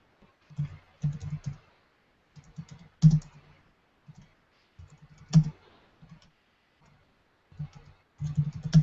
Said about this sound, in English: I don't even know if I'm typing this in right